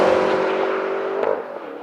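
A 2013 BMW M5 with a manual gearbox accelerates hard, its engine roaring loudly then easing off as it pulls away, with a brief click near the end and no talk.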